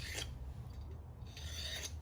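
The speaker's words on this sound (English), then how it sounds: "deburr everything that I can" Metal parts for a Yamaha Tenere 700 rally tower are deburred by hand, two short rasping file strokes at the start and end, faint and close.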